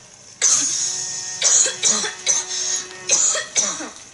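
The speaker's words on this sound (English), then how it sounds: "It was just a little cough." A series of harsh coughs in bursts, close and loud, with short pauses between them.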